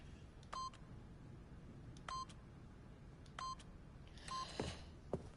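Keypad code being entered in The Stanley Parable: Ultra Deluxe, four separate electronic tone beeps at steady intervals, fairly faint, followed by a brief click, with no talking.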